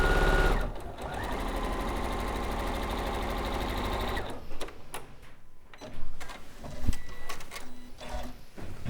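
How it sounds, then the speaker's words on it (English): A home sewing machine runs a normal-length straight stitch down the middle of fabric for a flower tote bag, a steady close mechanical whir for about four seconds before stopping, followed by quieter handling clicks and rustles. "I'm just going to do normal stitch length straight down the middle."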